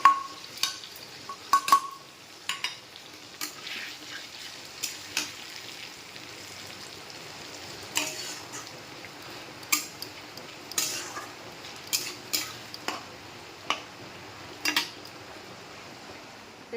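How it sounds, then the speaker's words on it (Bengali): Ginger and green chilli paste fries in a pot for khichuri, a steady close sizzle broken by repeated sharp scrapes and clinks of a spoon stirring against the metal. "আদা কাঁচা লঙ্কা বাটাটা দিয়ে দিচ্ছি এখন।"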